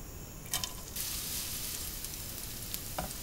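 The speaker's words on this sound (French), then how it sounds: "j'ai mis de l'huile d'olive, je vais venir mettre des oignons" Onions sizzle and fry in hot olive oil for a bolognese-style pasta sauce, a steady close crackling hiss with a few brief stirring clatters and no voices.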